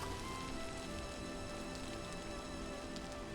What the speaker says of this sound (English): the rain does get quieter